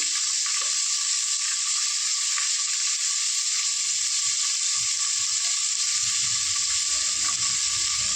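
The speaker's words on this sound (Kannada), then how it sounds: "ಸ್ವಲ್ಪ ಎಣ್ಣೆಯಲ್ಲಿ ರೋಸ್ಟ್ ಆಗಲಿ." Vegetables roast in hot oil for a vegetable pulao, giving a loud, continuous close-up sizzle, with soft stirring scrapes toward the end.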